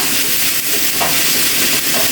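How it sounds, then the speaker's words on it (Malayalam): Bitter gourd stirred and frying in a pan, giving a steady, continuous sizzle and hiss with faint scraping throughout, close and fairly loud, with no talking. "നന്നായി ഇളക്കി കൊടുക്കാം."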